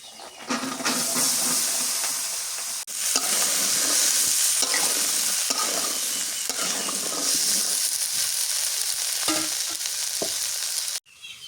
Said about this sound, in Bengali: বরবটি ভাজি করবো। দিয়ে দিই বরবটি।